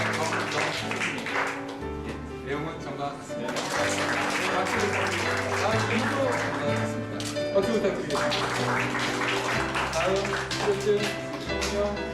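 Audience claps at a graduation ceremony for a housewives' baseball training course, sustained hand clapping over roughly twelve seconds with background music and some talking underneath.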